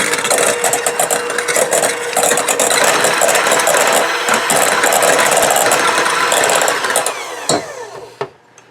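An electric mixer beats room-temperature cream cheese and butter with lemon extract for frosting, a loud continuous whirring motor rattle that runs steadily and then winds down near the end.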